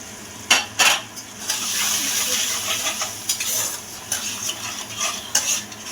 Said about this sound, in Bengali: সামান্য একটু জল দিলাম, যাতে শুকনো মশলাগুলো যাতে পুড়ে না যায়